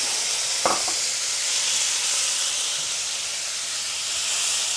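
Canned peeled cherry tomatoes heat in a pan, giving off a steady, hissing, steamy sizzle that stays even throughout, with one brief clack near the start.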